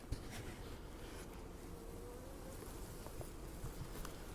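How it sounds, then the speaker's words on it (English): Honey bees in an opened nucleus hive, a dense, steady buzzing drone that fills the whole stretch at close range with faint knocks and handling noises, no talking. "there are a lot of bees in here"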